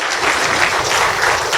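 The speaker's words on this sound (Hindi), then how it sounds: "जोरदार तालियों से भाई साहब का हम सब मिलकर धन्यवाद करेंगे।" Loud, dense applause from an audience thanking a speaker at a meditation talk, a continuous roar of clapping filling the whole short stretch.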